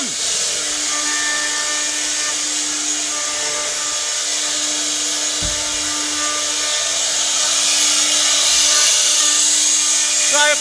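Four CNC machines run in a workshop that works day and night, giving a continuous loud mechanical whine and hum with steady tones that builds slightly toward the end.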